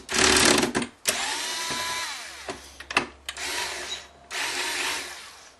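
Screwdriver and tool handling while Phillips screws come out of an old Montgomery Ward drill press during a tune-up, with bursts of scraping, rattling and ratchet-like clicks broken by short pauses, close and fairly loud.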